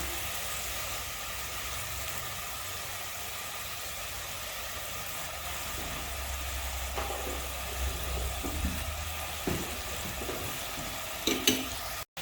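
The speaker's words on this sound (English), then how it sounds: "now I'm gonna add fried onion" Fried onion stirred into a pot of goat and potato stew, a low continuous sizzle with scattered spoon scrapes and knocks toward the end, over a faint background rumble.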